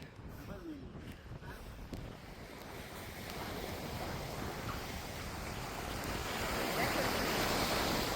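Ocean surf rolls onto a sandy beach in a steady, building wash, with wind buffeting the microphone throughout.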